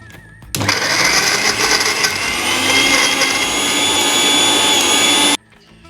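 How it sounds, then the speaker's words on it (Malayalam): A mixer grinder whirs loudly, grinding garlic, curry leaves and a piece of Maggi stock cube, starting abruptly after a short pause and running steadily for about five seconds before cutting off. "ഇനി നല്ലപോലെ നമുക്കൊന്ന് അരച്ചെടുക്കാം."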